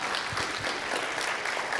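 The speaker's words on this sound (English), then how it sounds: "So we want to give her an applause, please." An audience applauds in a ballroom at a capstone speaker event, a dense, steady wash of clapping that fills the whole moment at moderate volume.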